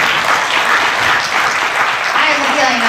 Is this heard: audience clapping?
yes